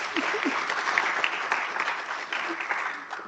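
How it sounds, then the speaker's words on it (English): Audience applause at an in-person workshop session, steady dense clapping from a room of people lasting throughout, moderately loud with a few faint voices underneath. "Can we please give him a round of applause?"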